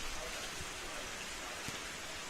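Steady rain falls at an outdoor sports ground during a men's pennant final, a continuous even hiss of drops with faint scattered taps and no clear voices.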